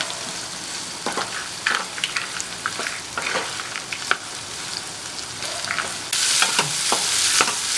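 Onions and tomatoes sautéing in a pan for a spicy chutney sizzle steadily while a spatula scrapes and stirs in irregular strokes, the frying growing louder near the end, with no talking.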